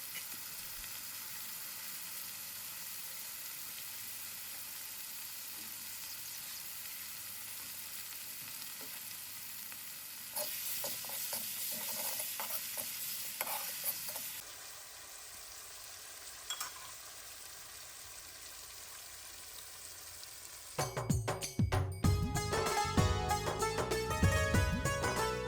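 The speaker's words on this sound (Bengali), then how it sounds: "মশলাটাকে একটু নেড়ে চেড়ে ভেজে নেব ভালোভাবে, যাতে মশলার কাঁচা গন্ধটা চলে যায়" Spice paste for a village-style layer chicken bhuna fries in a pan as it is stirred, giving a faint, steady sizzle with soft scraping. Louder clattering textured noise comes in near the end, and no one speaks.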